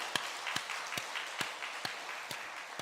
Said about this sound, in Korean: 오늘 오신 새 가족들을 위해서 환영의 박수 드리겠습니다